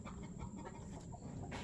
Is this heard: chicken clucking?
yes